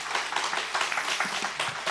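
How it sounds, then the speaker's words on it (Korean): Welcoming applause from a church congregation at an education and send-off ceremony, dense steady clapping throughout with no talk over it. "환영의 박수 부탁드립니다."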